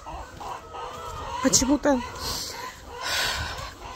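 Chickens being fed cluck and squawk close by, a short burst of sharp calls in the middle over a quiet background, while someone speaks briefly.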